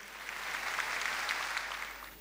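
Audience applause at the 20th Turkey Folk Dance Competition as the Sabancı Foundation's general manager walks onto the stage, a steady, dense wash of clapping throughout that fades slightly at the end.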